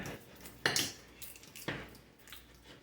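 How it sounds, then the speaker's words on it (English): A utensil stirs a thick jalapeno popper filling in a bowl, giving a couple of soft scraping, clinking strokes at close range against a quiet background. "I'm going to start to mix it up a little bit"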